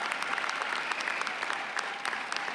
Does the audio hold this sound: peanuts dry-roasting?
no